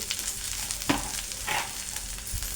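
Green chickpea leaves sizzle steadily in a hot pan for harbhara bhaji, cooked with garlic and chilli, with a few stirring scrapes over the continuous frying hiss and no voices.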